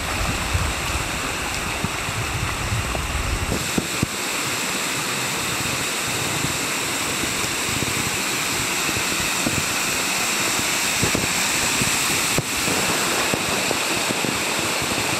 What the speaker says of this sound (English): taking photos of the little waterfall